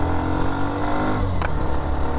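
A Hero Xtreme 125R motorcycle accelerates from fourth gear, its engine a loud, close, steady low drone with rising rumble and some wind noise across the short stretch.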